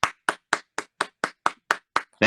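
One person claps alone in slow, evenly spaced single claps, nine of them, crisp and close, followed at the end by the start of a voice.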